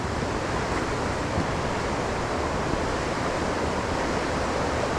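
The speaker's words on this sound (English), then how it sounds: "the noise of the water rushing over the rocks" Water rushes and roars in a dense, unbroken hiss, like a rapid tumbling over rocks close by.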